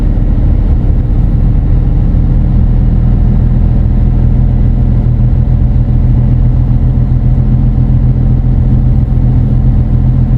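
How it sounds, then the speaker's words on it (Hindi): Loud continuous low rumble of a truck's diesel engine with the engine brake applied while driving on a road in Plymouth, England, steady and droning throughout. "अभी मैंने इसकी इंजन ब्रेक लगा ली है, तो ये खुद ही डिस्टेंस रखेगी अगली गाड़ी से।"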